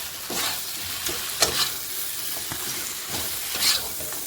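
Catla fish head frying in a pan with lentils, giving a steady soft sizzle with intermittent stirring scrapes and brief louder hisses, close and alone without voices.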